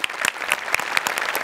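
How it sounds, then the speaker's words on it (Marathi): A studio audience at a Marathi comedy show breaks into loud, dense clapping, steady throughout with sharp individual claps standing out, no voices over it. "जोरदार टाळ्या"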